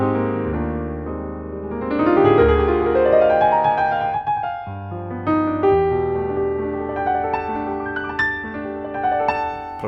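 A Dexibell S3 portable digital piano plays a flowing passage of rising arpeggios and sustained chords. The notes ring clearly at close range, and no voice is heard over them.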